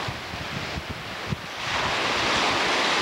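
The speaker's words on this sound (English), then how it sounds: "get the wind blowing down on the beach" Wind buffeting and waves washing onto a beach near a pier and lighthouse, blustery microphone rumble with surf building into a loud continuous wash.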